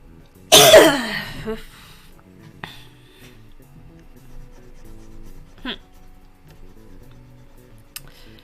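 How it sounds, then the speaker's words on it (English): A single sharp cough bursts out close up at the start, then fades into near silence with a few faint ticks and small movements. "My cough is coming back"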